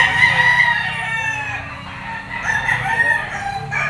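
A yellow-legged bull stag gamefowl at a Lipa auction market crows loudly and close by. Other fowl cluck and crow around it, and the yard keeps up a busy background din.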